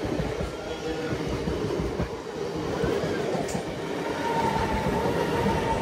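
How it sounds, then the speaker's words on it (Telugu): The Chennai to Sainagar Shirdi express train, with ICF coaches, rumbles steadily from inside as it starts moving, a continuous low rolling noise with faint rattles and squeals, and a voice talks briefly over it. "మన ట్రైన్ అయితే స్టార్ట్ అయిపోయింది"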